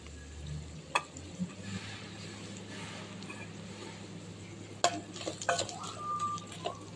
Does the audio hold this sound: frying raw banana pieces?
yes